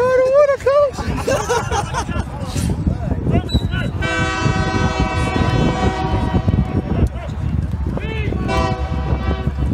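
A train passes close by at a Quidditch match, its loud sustained horn blaring for several seconds over heavy rumble while people shout and talk nearby.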